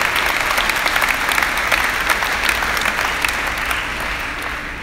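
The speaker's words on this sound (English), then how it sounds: "let's give them a round of applause" An audience gives a warm round of applause for a troupe of Irish dancers. The clapping is dense and steady and eases off slightly toward the end.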